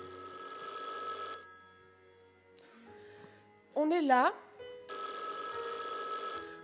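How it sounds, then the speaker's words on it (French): An old-style telephone bell rings in two long, bright, rattling bursts, fairly close. Between the rings a person speaks briefly and a short whistling tone is heard. "le téléphone, il sonne"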